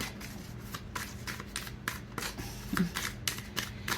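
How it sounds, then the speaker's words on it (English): A deck of tarot cards is shuffled by hand in quick repeated riffles and flicks, crisp and close, with cards slapping down near the end. "And you see me shuffling the cards, and you see the cards falling out."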